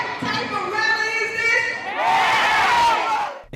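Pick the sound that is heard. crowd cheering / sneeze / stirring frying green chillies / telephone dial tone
crowd cheering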